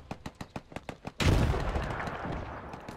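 Artillery pieces fire in the WW1 strategy game Between Empires: a quick run of sharp, evenly spaced shots, then a loud, deep blast that rolls into a long rumbling decay.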